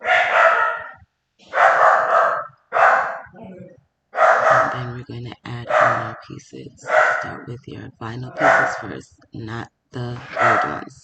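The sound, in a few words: dog barking in the background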